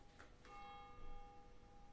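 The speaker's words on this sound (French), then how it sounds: "Écoutez les cloches, c'est bien" Church bells ring with a sustained, shimmering tone after a couple of soft strikes near the start, steady and moderately distant, with no one talking.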